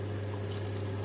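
A short pour of milk into a pan over very low heat gives a brief, soft liquid trickle against a steady background hum.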